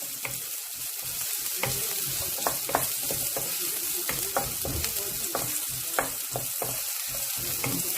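Garlic sizzles and fries in a pan with translucent onions for an Ilokano batso dish, a steady crackling hiss broken by irregular stirring scrapes and clicks close by, with a brief spoken word.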